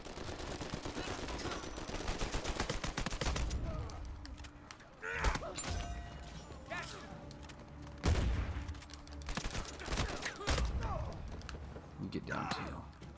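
Gunfire in the Uncharted 4 multiplayer beta, with a long stretch of rapid automatic shots at first, then scattered single loud shots and impacts, and people talking over the action.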